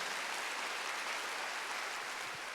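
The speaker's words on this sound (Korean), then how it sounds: "박수하세요." A church congregation at a Wednesday worship service claps together, a steady, even wash of many hands heard from a slight distance at moderate loudness, with no voices over it.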